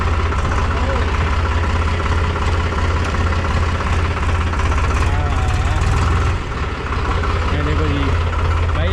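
Tractor engine running steadily while being driven in second gear on a village outing, a loud continuous low diesel rumble with a brief dip near the end.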